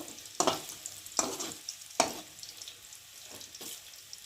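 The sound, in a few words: fried potatoes being stirred and pushed aside in pan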